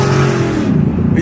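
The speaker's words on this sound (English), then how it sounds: "so they're trying to impress me by revving up their engine" A car engine revving loudly and close by, a dense, sustained roar that holds steady throughout with no voices.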